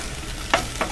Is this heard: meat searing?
yes